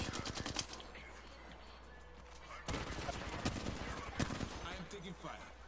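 Rapid automatic gunfire in a shooter game, sprayed in dense rattling bursts with a louder burst partway through, mixed with some faint voice.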